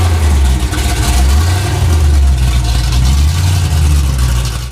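A supercharged Impala engine runs hard on a dyno, a loud, steady low-frequency roar with a sustained rumble throughout and no talk over it.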